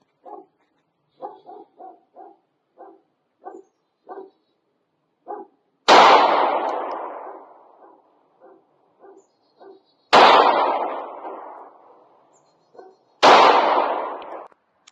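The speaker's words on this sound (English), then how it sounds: "now we're shooting the Glock 19X at 12 yards." Three loud, close Glock 19X pistol shots fired at 12 yards boom out with ringing decays, spaced several seconds apart, with faint clicks and small knocks between them.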